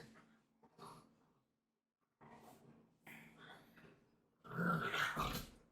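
A dog growls in several low, rumbling bursts separated by silent pauses, the last one louder and rougher, heard close with no talking.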